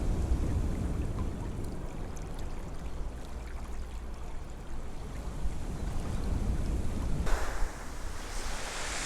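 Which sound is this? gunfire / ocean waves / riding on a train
ocean waves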